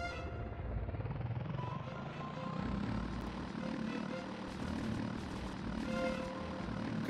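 A game helicopter in Body Harvest drones steadily with a continuous rotor and engine roar throughout, loud and close, with no talk.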